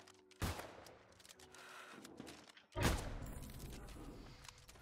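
Cannon fire booms in the video game New World during a large fortress battle, two heavy blasts a couple of seconds apart, followed by rumbling combat noise and crackling effects.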